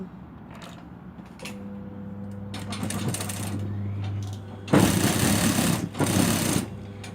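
A sewing machine runs a steady humming stitch along the waist of a dress skirt being altered into a straight skirt, then gives way to louder, rougher bursts of noise near the end.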